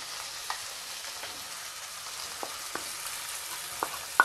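Boiled potatoes added to a pan for aloo paratha filling fry with a soft, steady sizzle, broken by a few light clicks and taps of stirring. No talking is heard.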